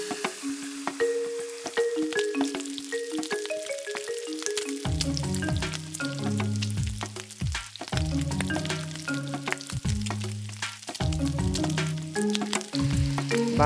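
Crucian carp being lowered into hot oil in a wok for home-style Huoxiang braised fish gives a steady, fairly loud sizzle and crackle throughout, with background music playing over it.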